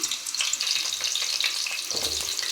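Drumstick pieces frying in hot oil give a close, loud, crackling sizzle that holds steady, with a low stirring clatter near the end.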